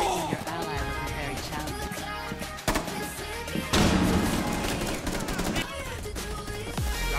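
Rapid video game gunfire crackles in dense bursts of sharp shots, with a heavier thump near the middle and steady bursts continuing to the end, mixed with game sounds and background music.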